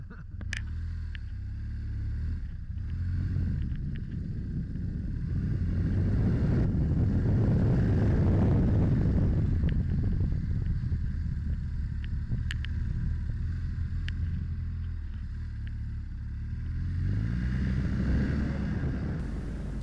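Engine of a BMW R1200 GS motorcycle droning continuously while riding through sand of varying firmness, a steady low rumble that swells slightly in the middle with wind noise over it.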